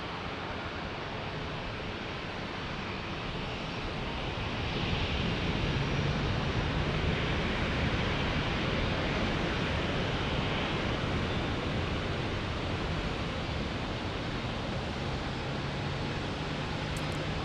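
A Southwest Airlines airliner departs San Diego airport, a broad continuous roar that swells slightly midway and holds steady, with no talking.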